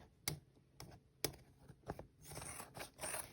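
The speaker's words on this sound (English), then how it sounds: "I'm going to take a pair of sharp scissors or fabric scissors" Fabric scissors snip and crunch through sweater fabric up close, a few sharp cuts followed by a softer scraping rustle, quiet with no talking.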